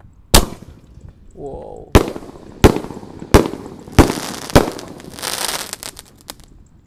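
Firework launcher (pelontar) fired outdoors after lighting, a series of six loud sharp bangs spaced roughly half a second to a second apart, with crackling hiss between shots and a brief exclaim from a person.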